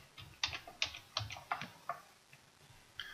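Keys tapped on a computer keyboard while a name is entered into a search field, about seven distinct clicks in a brisk, uneven run with a short pause before a final tap, close and fairly quiet with no voices.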